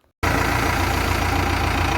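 A 2018 JCB 3DX backhoe loader's diesel engine idles after a moment of silence, a loud, close, steady rumble with an even chugging throb.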